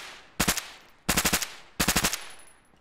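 Three sharp bursts of rapid automatic gunfire from a gun in ARMA 3, each a tight string of about six loud shots, separated by short gaps with a faint decaying tail after each.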